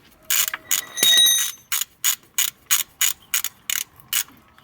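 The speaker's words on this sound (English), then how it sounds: "Top bolt, easy to do with a long extension, and the bottom one." A ratchet on a long extension works a sump bolt loose on an Alfa Romeo Stelvio 2.2 JTDm2, giving close, crisp bursts of clicking in a steady back-and-forth rhythm, about a dozen strokes with short pauses between them.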